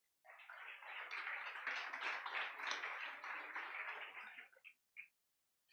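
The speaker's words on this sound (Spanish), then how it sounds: "Denle un aplauso al Señor." Church congregation clapping together at a Christian worship service, a dense steady patter of many hands lasting about four seconds before trailing off into a couple of scattered final claps.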